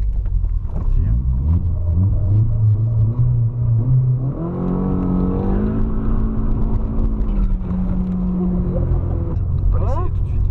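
A BMW E36 318is with a turbo conversion idles and is revved, the engine note rising in pitch and holding at higher rpm before settling back down; people talk over the running engine.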